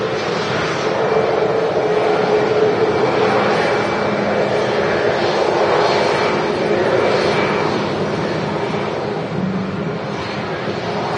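A Malta Air airliner arrives at Manchester Airport with a sustained, fairly loud engine roar and whine that holds steady and fades a little toward the end.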